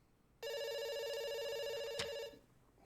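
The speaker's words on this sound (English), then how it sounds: "It's ringing." A telephone rings in the video game Dr. Langeskov, a steady electronic ring starting abruptly and holding for about two seconds before cutting off, loud and close with no talk over it.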